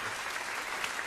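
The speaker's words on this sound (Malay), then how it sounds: "Tepuk tangan siap." Applause breaks out at a quiz competition as a team's score is announced, a steady broadband clapping from a group filling the whole short moment without pause.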